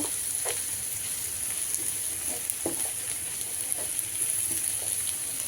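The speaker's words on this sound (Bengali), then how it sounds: "তারপর শুটকি ভাজি নর্মালি যেভাবে করি ওইভাবে করে নেব" Dried fish (shutki) frying in a pan with oil, garlic paste, turmeric and chili powder, giving a steady low sizzle broken by scattered soft pops and occasional stirring scrapes, with no voices.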